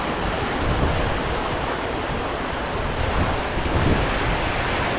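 Strong gusting wind on the Provo River while fishing, a steady loud broadband roar buffeting the microphone for the whole stretch with slight surges, no speech over it.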